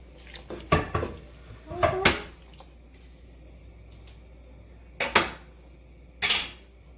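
Cubes of one chopped apple dropped into a pot of boiling soup, a few separate clatters and soft plops against the pot, heard close and spaced out with quiet simmering in between.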